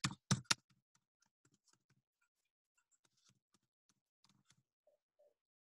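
Quiet, sparse clicks of a computer keyboard being typed on, with a few louder knocks at the start followed by scattered light keystrokes and no talking.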